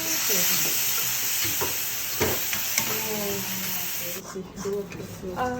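Noodles stir-frying in a pan over a gas flame at a Bangkok cooking class, with a loud, steady sizzle and hiss. Scraping stirs run under it, and people talk over the cooking throughout.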